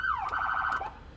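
A fire department F250 response truck's siren, run by a Wayland analog siren controller, gives a short electronic wail, sliding down then pulsing rapidly before dropping off, loud and close in just over a second.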